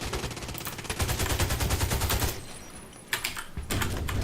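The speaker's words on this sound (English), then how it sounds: "Someone dropped a mortar strike" Mortar strike explosions and rapid gunfire in a PC shooter, a dense rattling burst of shots for about two seconds, then a brief lull broken by a sharp impact and more firing, heard alongside mechanical keyboard clatter.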